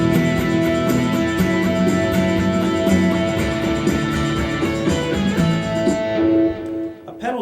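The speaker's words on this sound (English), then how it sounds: "And I'm also using a pedal tone technique." Guitar riff built on a held A pedal tone with its fifth E ringing steadily beneath shifting chords, played continuously and loud before the strings cut off near the end.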